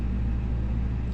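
Steady low mechanical drone of an Airbus A320 hydraulic power transfer unit in the FlyByWire A32NX flight simulator, humming continuously at an even level with no talk over it.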